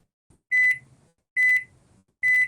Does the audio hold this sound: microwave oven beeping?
yes